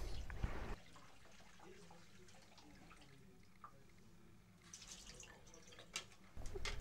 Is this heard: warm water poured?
yes